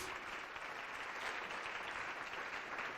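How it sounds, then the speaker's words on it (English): An audience applauds a children's Lego robot team at a technology park event, a steady wash of clapping from a full room, faint and even throughout. "A big applause for them."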